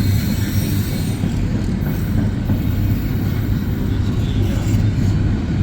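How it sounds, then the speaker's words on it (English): A CSX SD70MAC locomotive leads a lighter train up a steep grade, a loud continuous rumble of engine and rolling wagons with faint wheel noise, steady throughout with no clear talk. "This train is not struggling because it's a lighter train."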